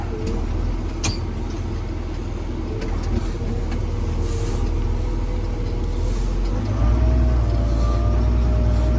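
Engine of a farm vehicle hauling wheat, a steady low rumble that swells and shifts pitch as it labours and pulls away, with faint background noise and a brief voice.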